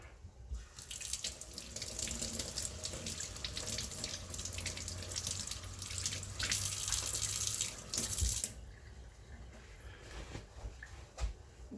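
Kitchen tap water runs steadily into a sink while shell is rinsed off underneath, a continuous splashing hiss with small shifts as hands move through the stream, then it stops abruptly.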